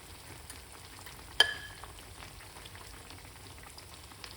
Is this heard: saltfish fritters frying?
yes